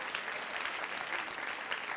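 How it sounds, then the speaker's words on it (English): A studio audience at a stage show applauds, a dense, steady patter of many hands clapping close by with no pauses across the short stretch. "let's give them a nice round of applause, folks"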